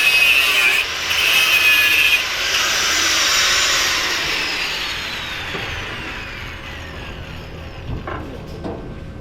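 A grinder runs steadily with a harsh, high, rasping whine while a bird aviary is being built, loud at first and easing slightly toward the end, with a few knocks near the close.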